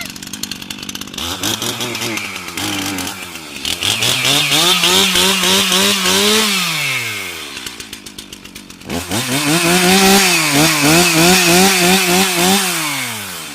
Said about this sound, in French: c'est pas le même gabarit de tronçonneuse